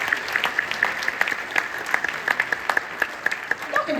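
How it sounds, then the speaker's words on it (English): Audience applause for a school band after a holiday concert at a band booster meeting, sparse and moderately loud clapping with distinct individual claps in an uneven rhythm over faint room murmur. "Y'all give them another round of applause because they deserve it."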